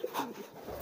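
A three-day-old pigeon squab gives a brief, faint, soft squeaky call lasting under a second, close by and alone with no talking.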